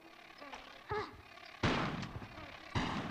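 Lara's shotgun in Tomb Raider 4: The Last Revelation, blasting at bugs: a few loud, spaced booming shots with short tails, preceded by brief game sound effects.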